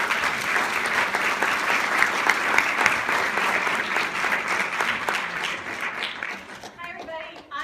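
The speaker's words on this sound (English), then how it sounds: "Let's give her a round of applause." A lecture audience at a university museum claps to welcome a speaker, steady dense applause from a roomful of people that tapers slightly near the end as a voice begins.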